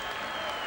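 Steady applause from a 20,000-strong stadium crowd at the Jahn-Sportpark for footballer Thomas Doll during a DDR versus USSR European Championship qualifier, a dense, even wash of clapping with no break.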